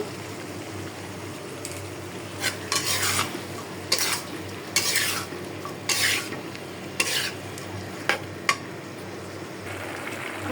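Taro stolons being stirred and fried with prawns in a pan: a steady sizzle runs throughout, broken by a series of loud scraping strokes of a utensil against the pan, close and with no talk.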